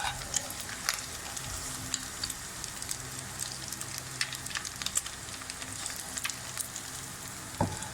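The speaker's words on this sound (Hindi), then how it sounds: "लेंगे और सब्जियां फ्राई करेंगे इसमें" Vegetables sizzle and crackle steadily in hot oil for Chinese fried rice, a close, continuous frying hiss with scattered pops and occasional stirring clinks.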